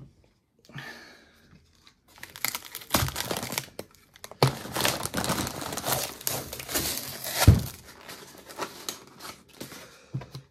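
Cardboard from an emptied box being cut up and torn apart, with close, loud crinkling, ripping and crunching bursts that run fairly continuously after a quiet start, plus a sharper tear near the end.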